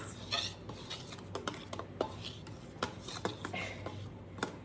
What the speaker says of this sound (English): I have a knife here. I'm just going to kind of give this a loose mix